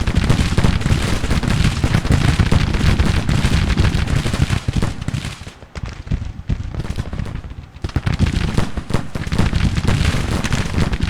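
Musket volleys in the Civil War strategy game Grand Tactician: dense, continuous crackling rifle fire with rumbling booms, loud and sustained, easing briefly midway before swelling again.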